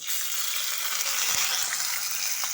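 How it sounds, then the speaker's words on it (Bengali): Washed raw rice hits hot oil tempered with cumin and cracked dried chillies, giving a loud, steady, dense sizzle close up with no talking. "এখন আমি এর মধ্যে দিয়ে দেবো ধুয়ে রাখা আতপ চাল।"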